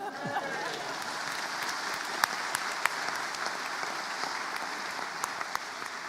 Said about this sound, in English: That's the first time that ever got a clap.